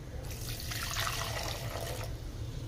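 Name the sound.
water being poured into masala in a pan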